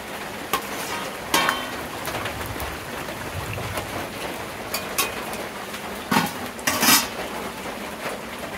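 Rohu fish pieces go into a pot of simmering telakucha greens, giving light metallic clinks and a few sharper clanks over a soft, steady bubbling hiss.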